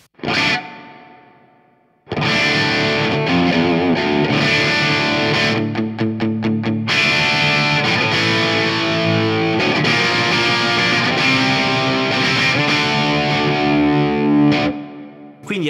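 Electric guitar played through an amp modeler with a Marshall-style cabinet impulse response and stereo reverb, giving a loud, sustained, distorted vintage crunch. Chords ring continuously for over twelve seconds after a brief opening strum and a pause.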